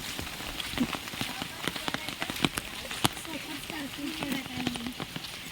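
Heavy monsoon rain pours around a state transport bus, a dense steady hiss broken by sharp drops and splashes, with faint voices murmuring underneath.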